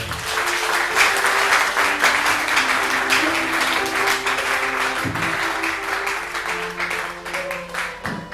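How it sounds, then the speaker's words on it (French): A church congregation in Pointe-Noire, Congo applauds continuously and loudly for the whole stretch, a dense wash of many hands with a voice or music tones faintly underneath. "Applaudissons le Seigneur."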